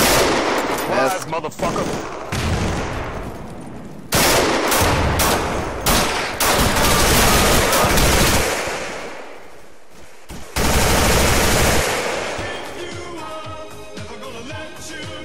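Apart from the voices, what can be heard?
gunfire from the video game Insurgency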